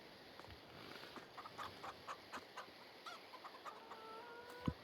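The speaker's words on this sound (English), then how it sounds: "So I have just chickens on here." Chickens in a pen in the Farming Simulator 22 video game cluck in a scattered series of short, soft calls, with no talk over them.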